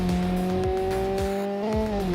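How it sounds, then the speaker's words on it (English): Racing car in a video game launching awkwardly through its dual-clutch transmission, a steady loud engine drone with stepped pitch shifts and a gearchange near the end, plus faint tyre scrub, alone without voices. "the Wolff car launches quite awkwardly due to its dual-clutch transmission"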